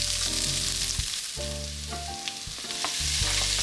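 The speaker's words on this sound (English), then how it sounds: "When the pan is warm, stir-fry the burdock root." Steady, loud sizzling from a hot pan as burdock root is stir-fried, with scraping stirs breaking through the continuous frying hiss.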